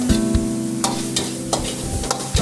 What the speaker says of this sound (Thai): ซอสจะเคลือบกับหมู สบัดหน่อยนิดนึง